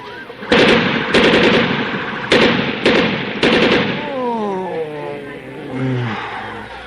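Gunfire sound effect in a talk show intro: five or six sharp bursts of shots in quick succession, followed by a voice groaning as if dying.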